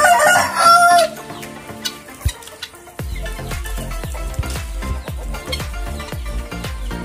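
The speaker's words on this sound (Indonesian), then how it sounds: "Jadi ayamnya sudah terbiasa memakan roti ya, sehingga kita kasih roti langsung juga doyan." Chickens being fed bread, with clucking and crowing fowl close by, an early loud burst of bird calls followed by softer repeated clucks over a rhythmic background.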